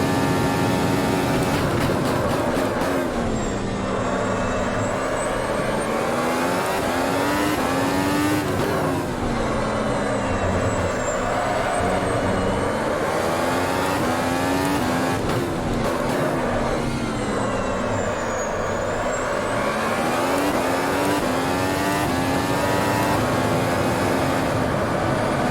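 A Formula 1 car engine in the video game Automobilista at the Circuit of the Americas in Austin, loud and close, whining up through the gears with repeated drops and climbs in pitch as it brakes and accelerates.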